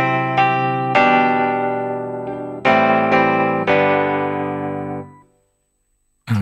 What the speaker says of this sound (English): Here I've got a bright electric piano.